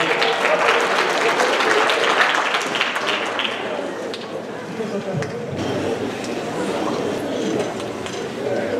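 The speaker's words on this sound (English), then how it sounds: "Round of applause, guys." A school assembly audience applauds, a dense crowd of clapping that swells then gradually thins and fades, with scattered voices underneath.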